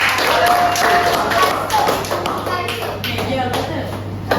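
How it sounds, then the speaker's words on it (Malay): Young children clap their hands in a classroom religious lesson, a busy patter of taps and thuds under continuous chatter and voices close by. "Tepuk tangan dekat Pia."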